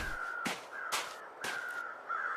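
Crows in the video game The Long Dark caw four times in steady succession, loud and close against a thin wind-like background hiss.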